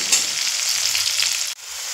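Potato pieces seasoned with salt and turmeric fry in oil in a continuous loud close sizzle, cut off abruptly by a brief drop before the frying resumes.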